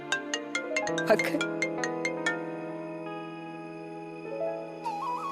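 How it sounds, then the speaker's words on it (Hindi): A melodic phone ringtone plays on its own: a run of bright plucked notes, then sustained chiming tones that shift pitch near the end. "पंडित जी का फोन आ गया।"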